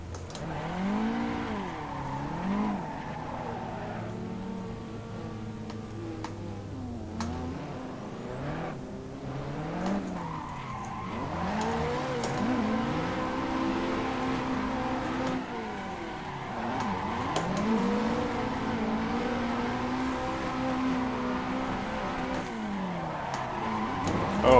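Car engine drifting in the Assetto Corsa racing game on a custom-designed track, revving and wavering in pitch continuously with tire squeal, steady and close throughout.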